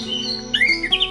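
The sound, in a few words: anis merah (orange-headed thrush) call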